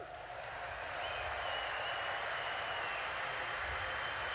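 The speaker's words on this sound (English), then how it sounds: "Please give a big round of applause." Audience applause at the Invictus Games 2023 opening ceremony, a steady broad wash of clapping from a large crowd filling the whole stretch at even loudness, with no talk over it.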